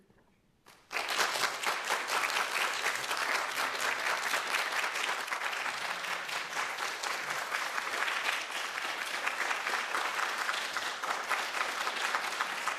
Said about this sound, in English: Could I ask the clapping to cease now?